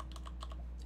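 Quick, light keystrokes on a computer keyboard while writing notes during a Minecraft hardcore session, a soft, irregular clatter of taps over a low steady hum, close and fairly quiet.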